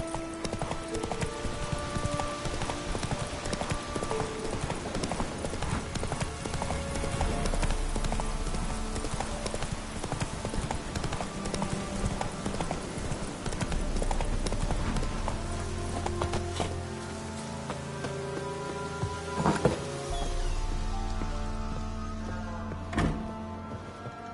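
Geralt's horse Roach trots in The Witcher 3, a close, steady clip-clop of hoofbeats running continuously over a tonal game score, slowing and thinning toward the end with a brief louder clatter.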